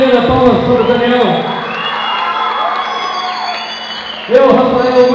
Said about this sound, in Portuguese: Na bateria, Daniel Oliveira, palmas para o Daniel.